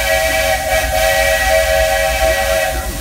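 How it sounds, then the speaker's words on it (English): Steam hisses loudly and steadily from the cylinder of the Lilly Belle steam locomotive on a night train ride, a constant close rush with a sustained whistle-like tone that runs through the whole span with no talk. "Look at all this steam from the cylinder."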